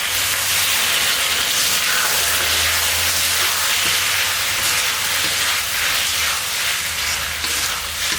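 Cornflour slurry is poured into a hot pan of egg manchurian, setting off a loud, sustained sizzling hiss that fills the whole stretch with no one speaking.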